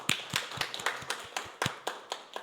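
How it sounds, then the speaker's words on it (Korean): Congregation clapping together during a church service, a series of distinct, fairly even claps in a steady rhythm, close and moderately loud with no talking. "우리 다 같이 박수로 한번 하나님께 영광 올리겠습니다"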